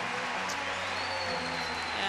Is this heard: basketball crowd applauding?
yes